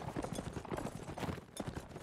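Horse hooves clip-clop rapidly and unevenly as cavalry charges in a medieval-style online team battle, the repeated hoofbeats blending with steady close-up clatter across the whole stretch.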